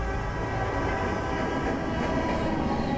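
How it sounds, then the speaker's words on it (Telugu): A train rumbles steadily with a dense, rattling roar of rolling wagons in the background of a film scene. It stays loud and even the whole time, with no voices over it. "అప్పుడు ట్రైన్ సౌండ్ వినిపిస్తుంది."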